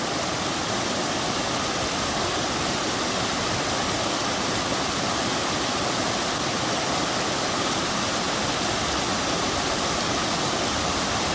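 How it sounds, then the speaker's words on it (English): Mineral Creek Falls beside the Hoh River Trail gives a steady, loud broadband roar of falling water, unchanging and close, with no voices over it. "This is Mineral Creek Falls."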